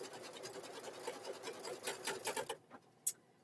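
An embroidery machine stitches free standing lace with a fast, rapid needle patter, fairly quiet, that stops abruptly, followed by a single sharp click.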